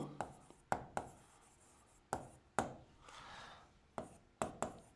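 Someone writes by hand during a chemistry lesson, giving sharp, close taps and scratchy strokes in irregular bursts with quiet gaps and no talking.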